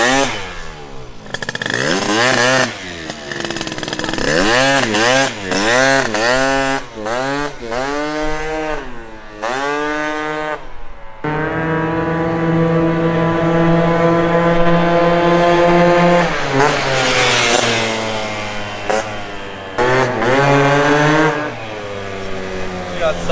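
A 72cc Honda Elite Dio scooter engine revs repeatedly on a ride, rising and falling in pitch with the throttle, loud and close, then holding a steady high whine before easing off; voices talk over it at times.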